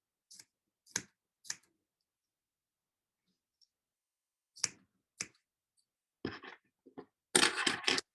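Scissors snip through the yarn loops of a handmade pom pom, giving a few sharp, isolated clicks and snips with long pauses, then a quicker cluster of cuts near the end, close up and with no one talking.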